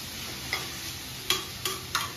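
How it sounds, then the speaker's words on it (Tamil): Tomatoes sautéing in a pan for chickpea biryani: a soft, low sizzle runs throughout while a spoon scrapes and stirs, giving four quick, faint clinks against the pan. "தக்காளியை சேர்த்து நல்லா வதக்கிக்கலாம் ஃப்ரெண்ட்ஸ்"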